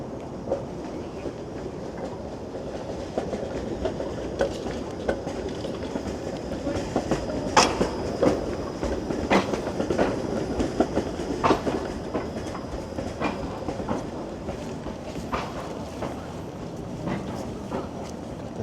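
A Toronto streetcar passes along King Street on a centre-of-street right of way, rumbling at moderate distance with rhythmic clacks and brief metallic squeals over city background noise.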